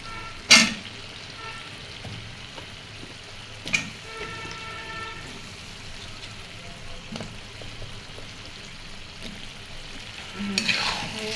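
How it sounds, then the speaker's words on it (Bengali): Potatoes stirred and frying with beef in a pan, a steady sizzle running throughout with a few sharp scrapes of the spoon against the pan. "আলুগুলো দিয়ে আরও হচ্ছে 5 মিনিট এরকম করে কষানি করবো।"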